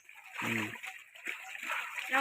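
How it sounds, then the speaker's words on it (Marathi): Water splashing and sloshing as clothes are swished about to rinse them, with a voice talking faintly over it. "मोकळ्या पाण्यात खाळून काढायचे कपडे"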